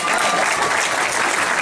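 Brief burst of dense audience applause at a Nickelodeon TMNT cartoon panel at New York Comic Con, loud and continuous with crowd noise throughout.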